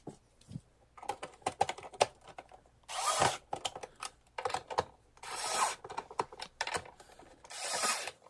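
Screws are driven back into the underside of a vintage radio-controlled Star Wars Jawa Sandcrawler toy: quiet clicks and scraping taps, plus three longer whirring bursts of a powered driver spaced a few seconds apart, close and fairly soft.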